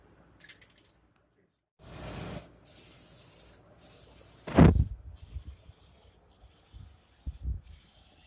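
Rattle-can spray paint hisses onto a Dodge Stealth in short bursts, a brief near spray followed by a louder burst, with quieter rubbing and handling noises between them.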